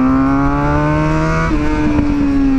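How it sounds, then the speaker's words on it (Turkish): A crash-damaged Suzuki GSX-R 750 sport motorcycle engine runs loud and close under light throttle, a steady buzzing drone whose pitch shifts slightly midway, with faint popping and no voices. "Hafifçe bir gaz açalım. Vay aradan patır patır sesler geliyor motosiklete."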